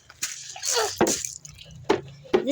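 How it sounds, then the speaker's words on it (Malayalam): An object plunged into water, with splashy liquid bursts and several sharp drips spaced out over a couple of seconds, fairly close and alone. "ഇതിനെ വെള്ളത്തിൽ മുക്കിയേക്കാം"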